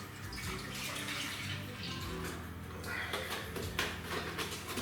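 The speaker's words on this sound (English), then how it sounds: "So I'm now going to tip half of this bottle of milk" Milk tipped from a bottle into a saucepan while making potato gratin, a close, faint gurgling liquid stream with small splashes and clinks of the pan.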